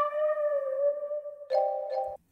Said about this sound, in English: And I also added a chorus just to add a detuning chorus sound to the lead